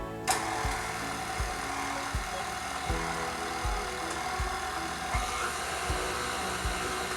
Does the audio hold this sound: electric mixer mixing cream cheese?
yes